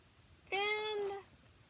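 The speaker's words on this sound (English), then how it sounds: "And yes, that's my cat." A house cat gives a single clear, drawn-out meow lasting under a second, fairly close, in an otherwise quiet indoor room.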